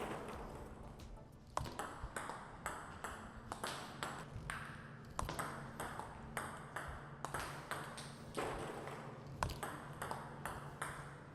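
Table tennis ball striking a Tenergy 05 rubber paddle in a steady rally, a regular series of sharp, bright pings about every half second over quiet room tone.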